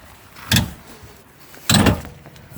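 On a 2014 Elddis Avante 576 caravan, the motor mover is levered over against the wheel with a bar, making two short, solid metallic clunks about a second apart, close by and with no voices.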